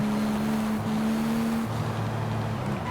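A Porsche 911 GT3 RS engine in the Forza Horizon 5 racing game, heavily modified, drones steadily and loudly, its pitch stepping down as it shifts to lower gears, with no talk over it.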